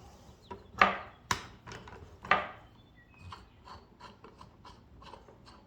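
The lever on a Hobie kayak pedal drive is turned after a gear lube fill cap is screwed on, producing a few sharp mechanical clicks and ratcheting snaps followed by softer, quieter ticks.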